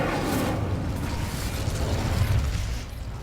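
The Incendio fire spell is cast in the Hogwarts Legacy video game on PS5, a loud rushing burst of flame that roars and crackles through the moment, then fades slightly at the end.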